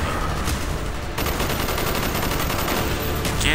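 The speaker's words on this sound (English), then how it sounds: "They don't stop shooting me." Relentless enemy gunfire in the Call of Duty Black Ops campaign, a loud, sustained volley of overlapping automatic shots that briefly thins near the one-second mark and then surges again, with no voices.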